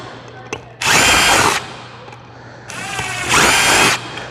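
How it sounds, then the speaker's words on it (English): A power drill boring through a stacking cup in two loud, whining bursts, each lasting under a second, with a quieter gap between them. "and I'll drill the other one as well."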